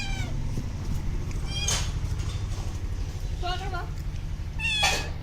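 A kitten meows three times in short, high, wavering cries spaced a couple of seconds apart, close to the recorder, over a steady low hum and background noise, with a person speaking nearby.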